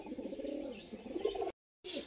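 Pigeons at a home loft coo steadily in a low, rolling murmur, fairly close, then break off for a brief silence before resuming.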